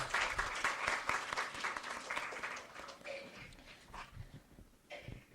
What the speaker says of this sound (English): I would request everyone to just give a round of applause for this humble soul.